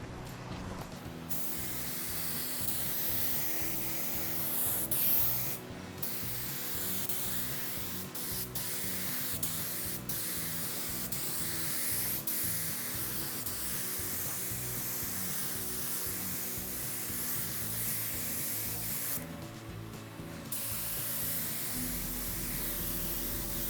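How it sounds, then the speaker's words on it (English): Spray painting of a second coat of primer on a vehicle part, a loud, close aerosol hiss that holds nearly continuous for over twenty seconds with only brief pauses between passes. "Time to go put the second coat of primer."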